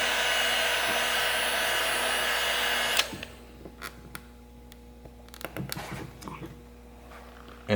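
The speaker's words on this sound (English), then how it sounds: "If you got a hair dryer, put it on the hottest setting." A hair dryer or heat gun blows steadily to heat tint film on a rear bumper reflector of an MK7 Jetta/GLI. It runs loud and close for about three seconds, then cuts off, leaving faint handling clicks and rustles.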